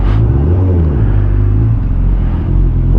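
A BMW HP4 motorcycle engine on a ride rumbles steadily and loudly up close, a constant low drone with slight shifts in pitch and no talking.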